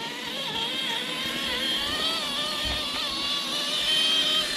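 RLAARLO MK-07 1/7 scale RC crawler climbing a steep slope in four-wheel drive, its electric motor whining continuously with slight pitch shifts, close and steady throughout, no voices.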